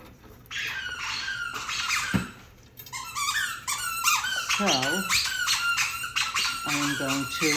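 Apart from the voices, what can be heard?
dog playing with a squeaky toy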